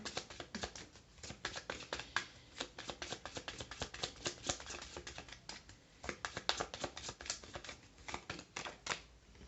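Tarot cards are shuffled and drawn close by, a dense run of quick papery flicks and taps that comes in bursts with short pauses, fairly quiet and with no voices.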